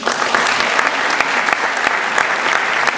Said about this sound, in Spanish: Y quiero pedirles que los recibamos con un gran aplauso